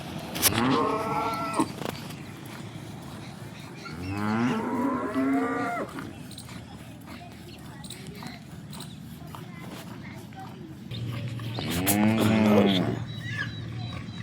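Recently calved cows low several times with long, drawn-out moos, some near and some farther off, over a steady rumble of farmyard background noise.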